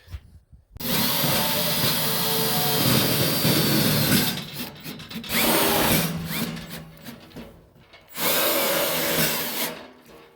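A power drill whirs loudly in three long bursts, pausing briefly between them as self-drilling Hex Tech screws are driven into a bracket; no talking.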